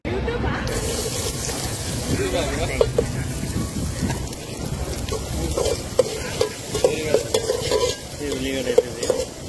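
Onions fry in a pan while chicken is cooked at Katta Maisamma, Shamirpet. A continuous sizzle mixes with stirring scrapes and scattered clanks, and people talk throughout.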